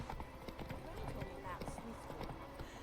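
Galloping horse hooves in the video game The Witcher 3: Wild Hunt, a quick rhythmic clip-clop running steadily under a voice and game sounds, moderately loud.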